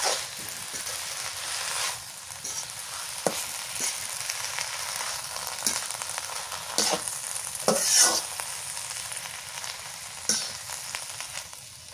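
Leafy red greens frying and being stirred in a pan while cooking a green banana and prawn dish, giving a steady close sizzle broken by scraping stir strokes, alone with no talk.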